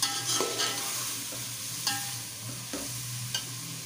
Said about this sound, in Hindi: और करेलों के साथ हम थोड़ी देर इनको भून लेंगे।